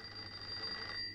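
A telephone rings in a 1971 film scene, a thin, steady high-pitched electronic ring that holds throughout the short moment over faint background hiss.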